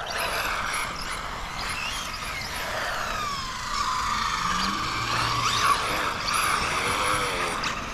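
A Tamiya TT02 chassis RC car with a Ford Mustang GT body, 5200 kV motor and drift setup spins its tires, giving a continuous high whining squeal with shifting pitch, close and steady, with no talking.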